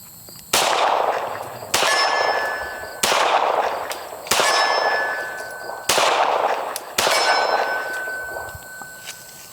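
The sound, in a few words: 1911 pistol shots ringing steel targets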